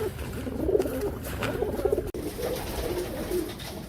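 Soft, repeated pigeon coos in low throaty bursts, steady over a faint background hiss, fairly close.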